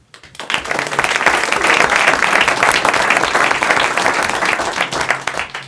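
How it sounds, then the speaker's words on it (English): A crowd at a town board of trustees meeting breaks into loud, sustained applause that swells quickly and holds steady, with some cheering mixed into the dense clapping. "let's give them a great round of applause"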